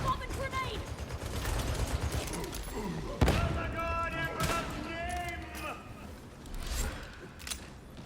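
Gunfire in the video game Darktide, with bursts of rapid shots, one sharp loud crack near the middle, and metallic mechanical clatter mixed through a busy game soundscape.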